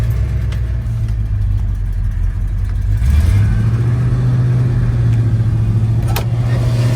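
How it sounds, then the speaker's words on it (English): A car engine runs steadily after a replaced ignition part, then its pitch rises and holds higher as it revs up to a fast idle, loud and close with no talk. "Now we're gonna test fire this, see if we've got a good engine."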